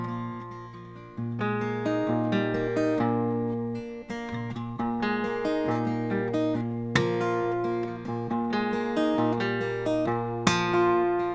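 An original song performed by its writer, with sustained harmonic instrumental chords and melodic lines playing steadily and close throughout, accented by periodic stronger note attacks, with no singing or speech.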